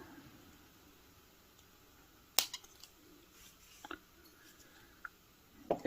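Wire cutters snip off excess beading wire during necklace making, a few sharp, close clicks against a quiet background.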